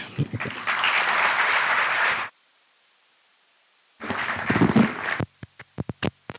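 An audience at a college inaugural ceremony breaks into applause after a speech, a dense burst of clapping that cuts off into silence, then resumes and thins to a few scattered, separate claps.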